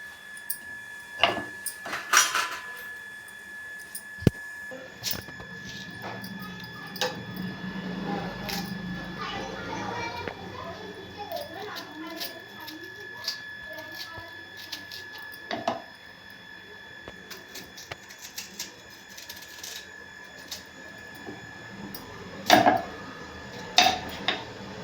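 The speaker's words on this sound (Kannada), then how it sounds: "ಇವಾಗ ನಮ್ಮ ಮಾವಿನಕಾಯಿನ ಕಟ್ ಮಾಡ್ಕೊಬೇಕು." Raw mango is chopped with a knife in a home kitchen, with sparse clicks and taps of blade and utensils on a board or dish, heard now and then beneath a person talking.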